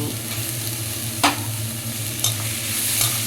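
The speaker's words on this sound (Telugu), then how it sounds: "ఈ విధంగా నెయ్యిలో కాసేపు వేయించుకోవాలి" Chopped beans, capsicum, cabbage and carrot frying in ghee give a continuous sizzle, broken by a couple of quick stirring scrapes, close and with no talking.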